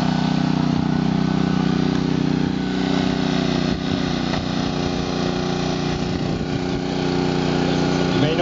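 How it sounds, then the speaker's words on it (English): A jaws of life hydraulic rescue tool powered by a running engine drones steadily while crews cut the roof and door off a car in a realistic crash demonstration. "They're using what's called the jaws of life."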